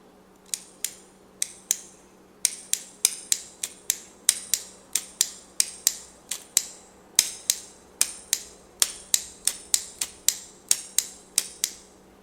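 Flint wheel of an Ibelo Monopol automatic petrol lighter being struck again and again, a long run of sharp, close metallic clicks and rasps, irregular but fairly rapid, with no talk.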